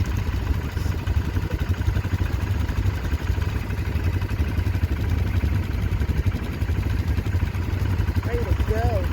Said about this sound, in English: Just turned on our bike.